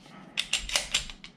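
On an SCT19 pistol build, the slide is worked back by hand, giving a quick cluster of four or five close, sharp metallic clicks and scrapes.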